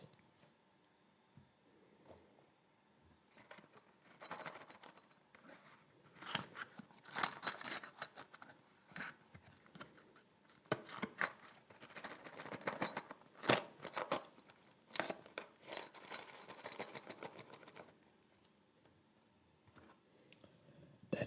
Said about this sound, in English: This is the sound of poker chips.